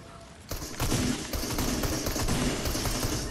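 Rapid gunfire in a video game, a dense burst of repeated shots starting about half a second in and continuing steadily and loudly to the end.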